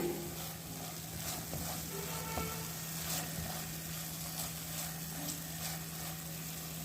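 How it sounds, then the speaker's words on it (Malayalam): Plantain sizzles steadily as it fries in a pan while being stirred, giving a continuous close crackle with occasional soft scrapes and no voices. "ഈ ചട്ടിയിലേക്ക് ഇട്ട് കൊടുത്തിട്ടുണ്ട് ഇനി നമുക്കിത് നല്ലോണം ഒന്ന് ഇളക്കി എടുക്കണം"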